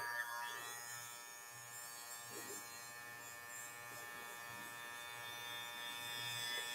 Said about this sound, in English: I can turn my clipper over.